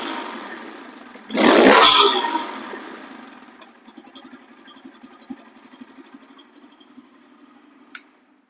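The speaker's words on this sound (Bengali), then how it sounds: "দেখেন সাউন্ডের কি ডাক, সাইলেন্সার থেকে কি ডাক" A Bajaj Pulsar N160 motorcycle starts with a loud crank and rev burst from the silencer, then settles into a steady close idle with rhythmic exhaust pulses before cutting off with a final sharp pop.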